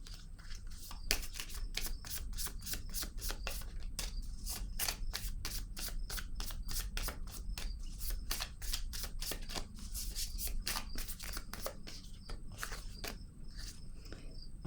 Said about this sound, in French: Je vais déposer une carte pour ces trois-là.